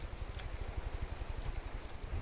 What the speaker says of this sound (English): I don't know why I hear rain sounds, because I'm in space.